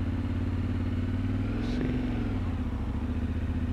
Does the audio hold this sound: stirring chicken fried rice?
no